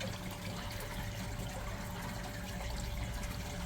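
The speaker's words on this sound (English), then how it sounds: "I'm just putting some fresh water in now." Fresh water pouring into a garden pond, a steady low rushing and trickling flow that stays even throughout, close by with no talking.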